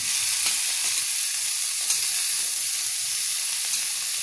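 Broccoli frying in a pan gives a steady, loud hissing sizzle throughout, with faint stirring scrapes under it and no voices.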